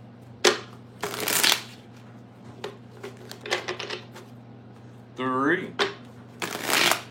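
A deck of tarot cards being riffled and shuffled by hand, several quick crisp bursts of flicking cards interleaved with a person talking nearby and a steady low hum underneath.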